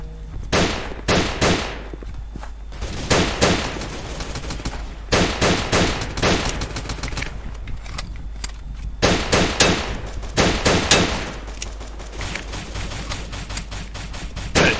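Repeated loud bursts of automatic gunfire in the shooting game Combat Reloaded 2, each volley lasting a second or so and separated by quieter gaps, with sharp rapid shots recurring throughout.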